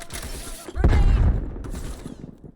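A grenade blast in Call of Duty: Black Ops Cold War hits as a loud, low boom that swells suddenly and then decays into a rumbling tail, with faint battle noise before it.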